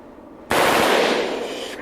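A rifle fires a short automatic burst outdoors, a sudden loud rapid string of shots lasting over a second with ringing decay afterward.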